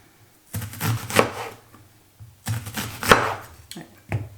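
A knife chops red onion on a board in two quick bursts of rapid taps separated by a pause, then a few lone chops. The sound is close and crisp.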